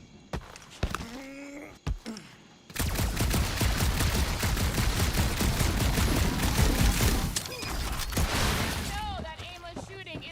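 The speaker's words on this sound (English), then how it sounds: "No, that aimless shooting isn't gonna scare the monsters away, right?" Sustained rapid gunfire erupts in the dark monster-planet level of Marvel's Guardians of the Galaxy video game, loud and dense for several seconds, with scattered impacts and character voices before and after.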